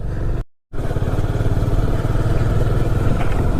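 A motorcycle engine drones steadily while riding along a road in Kashmir near Kulgam, a close, pulsing low rumble broken by a brief dropout near the start.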